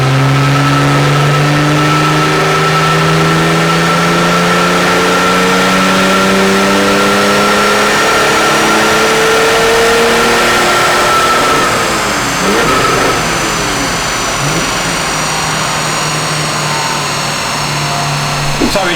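A BMW engine, from a comparison of a 330d and an M240i, revs and accelerates loudly for a long stretch, its pitch climbing through the gears, heard close from inside the car with voices talking over it.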